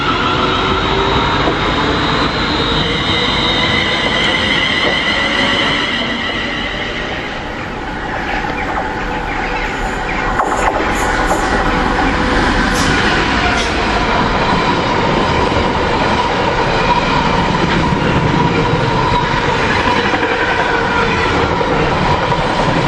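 Freight train from Lawley Street to Felixstowe running through Long Buckby, a loud, close, continuous rumble with rhythmic wheel clatter and brief metallic squeals, no talk.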